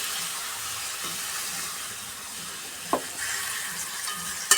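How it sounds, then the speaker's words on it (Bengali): Spice paste fries and sizzles in a wok in a steady, fairly quiet hiss, broken by a sharp scrape or clink of stirring and a second brief knock at the very end. "একটু ভালো করে কষিয়ে নিই মশলা বাটা জল দিয়ে দেবো নাহলে বসে বসে যাবে কড়াই আটকে যাবে"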